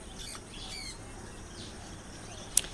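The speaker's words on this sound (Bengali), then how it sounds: "সুন্দর সুন্দর লাভবার্ডগুলো দেখতে পাচ্ছেন গড়িয়া পাখিরহাটে" Lovebirds at a crowded bird market give faint scattered squawks and chirps at a distance, ending with one sharp loud squawk, over a steady hum.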